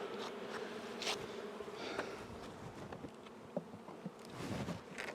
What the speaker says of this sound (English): There's a lot of extra bees on this one